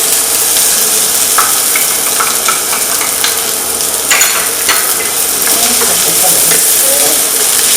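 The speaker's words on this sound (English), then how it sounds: "garlic and pimentos first. Right away, we go in with our onions." Onions hitting hot oil with garlic and pimentos, a loud, steady sizzle of frying with occasional scrapes and clinks of stirring in the pan, close and continuous with no talk.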